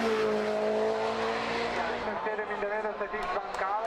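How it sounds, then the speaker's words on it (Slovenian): A Mitsubishi Lancer Evo 8 rally car races at a hillclimb event in Ilirska Bistrica, its engine loud and revving with a rising then shifting pitch, under a commentator's talk. "Odlični avstrijski voznik Mitsubishi Lancer Evo 8 je njegov dirkalnik."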